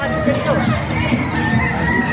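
A gamefowl rooster crows amid a busy mix of clucking Sinibalang and Talisay fowl and background chatter, loud and close, with the crowing rising over the flock noise.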